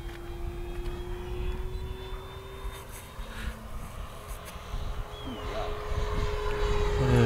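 An E-Flite Fw-190A 1.5 m electric RC model warbird flies inverted overhead, giving a steady droning motor whine that rises slightly in loudness as it passes, with faint breeze noise and no talking.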